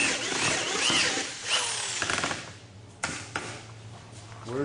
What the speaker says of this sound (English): drill don't seem like it has the torque